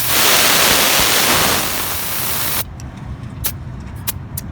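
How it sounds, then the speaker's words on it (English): Air released from a car's front tire to bring pressure down: a loud steady hiss for about two and a half seconds, then it cuts off, leaving quiet handling noises and a few short clicks. "we're gonna have to let some air out because we want 29 PSI in the front two tires"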